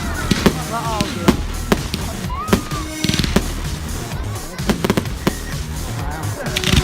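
Bonfire Night fireworks go off in a string of sharp bangs and crackles, some loud and close and others further off, with whistling rockets and people talking throughout.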